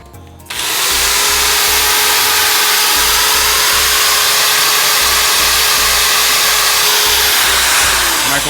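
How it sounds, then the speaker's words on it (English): A microwave and a power drill run together off a Mango Power E portable power station on an off-grid homestead, giving a loud, steady whine with a low rhythmic throb underneath after a brief quieter start. "Microwave and power drill."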